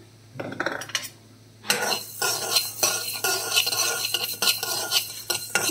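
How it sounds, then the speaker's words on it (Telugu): Coriander seeds dry-fried in a pan for chicken pickle are stirred with a utensil, making continuous rattling, scraping and clinking against the metal, close and fairly loud, with no speech. "ధనియాలు ఫ్రై చేసుకుందాం."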